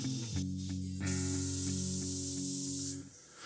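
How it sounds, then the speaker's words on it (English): A spray gun hisses steadily as finish is sprayed onto a handmade electric guitar body, a bright continuous spray lasting about two seconds over a low humming background. "These horns were really easy to hit with the spray."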